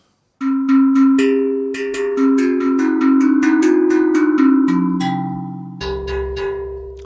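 Tangent Drum virtual instrument played with a nail plucked articulation: a run of bright, ringing metallic tuned notes with clear attacks and sustained decay, stepping through different pitches, played alone and close.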